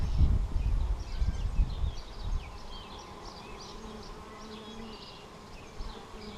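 A honeybee swarm hums at the frames of a hive being inspected, a steady close buzz with a few low handling thumps at the start.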